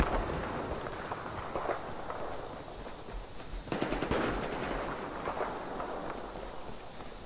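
Machine gun fire in the Battlefield shooter game, rattling steadily under constant battlefield noise with a sharper, denser burst partway through; no one speaks.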